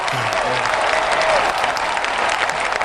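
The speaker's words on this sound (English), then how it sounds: "Big round of applause for me not being hungover this morning." A recorded applause effect played on a radio morning show, a dense, even wash of crowd clapping and cheering held at a steady loud level, with faint voices beneath.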